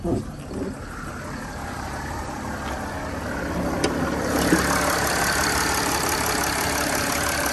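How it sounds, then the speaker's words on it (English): A Mercedes ML 320 diesel engine idles steadily just after starting, a continuous close rumble that grows slightly louder partway through, with a few small knocks and clicks over it. "it is a diesel engine."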